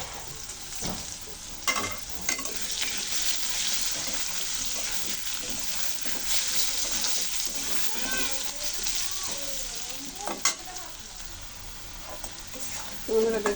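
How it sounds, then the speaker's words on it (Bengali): Potatoes frying in oil with a little turmeric, a steady broadband sizzle running throughout with occasional stirring scrapes and clinks, close and fairly loud. "আলুগুলো ভালো করে ভেজে নেব, লাল লাল করে।"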